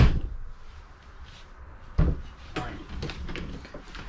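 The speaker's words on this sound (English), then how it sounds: "Shut the door." A bathroom door in a 2021 Grand Design Solitude 380FL fifth-wheel RV shuts with a single dull thump midway, over faint room hiss and soft movement, with quiet handling noise afterward.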